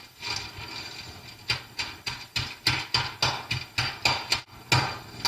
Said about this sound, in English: pound out cutlets